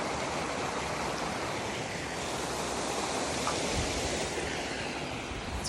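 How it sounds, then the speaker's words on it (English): A river rushes loudly outdoors on a nature walk, a dense, steady roar of water filling the whole clip with no pauses or voices. "Here at the river,"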